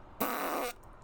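A human voice imitates a focaccia dough fart noise with a single short, loud, raspy blurt lasting about half a second.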